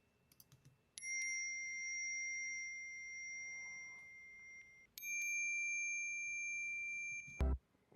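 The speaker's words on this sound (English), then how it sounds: "I recorded this chime, just picked this up at the local guitar center." Two bright, ringing chime strikes from a simple store-bought chime, the first at one second and the second at five, each sustaining steadily before cutting off, recorded close in a quiet room with a brief knock at the end.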